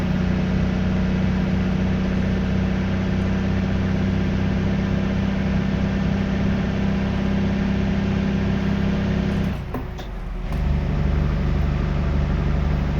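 A Cat 3406B truck engine with a 7-inch exhaust in American Truck Simulator gives a steady, loud, low droning rumble that dips briefly near the end before returning to a full, constant roar.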